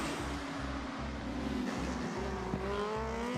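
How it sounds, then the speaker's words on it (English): High-pitched racing motorcycle engines, a Yamaha and a Ducati in a British Superbikes race, roar and whine together close by, pitch climbing as they accelerate, with no voices over them. "listen to those two bellowing engines, the Yamaha versus the Vision Track Ducati."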